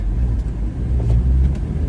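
A car with a 1.8-litre engine pulls hard, its deep engine rumble and road noise droning loud and close from inside the cabin.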